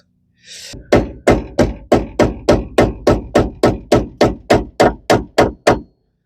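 Door hinge pin bushings are hammered into a Squarebody truck door: sixteen sharp metallic hammer blows in an even, steady rhythm, close and loud with no talking.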